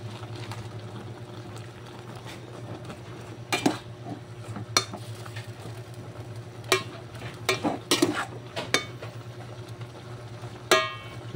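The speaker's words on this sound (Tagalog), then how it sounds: "Haluin lang natin ng konti." Dinuguan (pork blood stew) stirred in a cooking pot as it simmers, with scattered sharp clinks of the utensil against the pot over a steady low bubbling hum.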